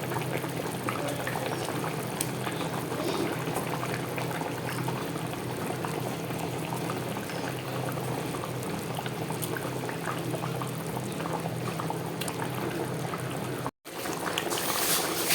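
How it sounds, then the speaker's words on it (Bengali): A pan of fish curry with taro and potato bubbles steadily at a vigorous boil. The popping and hissing run close and unbroken, then cut out briefly near the end. "তরকারিটা দেখুন কত সুন্দর টকবক করে ফুটছে"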